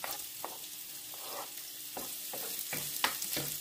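Garlic fries in a pan with a faint hiss and sizzle, broken by soft stirring scrapes and a few sharper crackles, with no talking.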